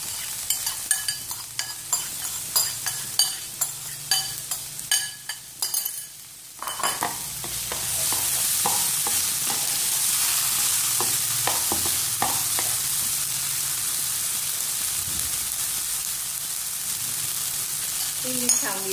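Glass noodles with bean sprouts and carrot stir-fried in a pan: scattered stirring clatter and scrapes at first, then a loud, steady sizzle fills the rest, with occasional utensil knocks.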